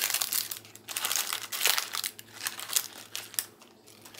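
Warm, freshly baked fruitcakes being unwrapped and pulled from their trays, giving close, irregular crinkling and crumpling of wrapping with soft handling noises and no talk.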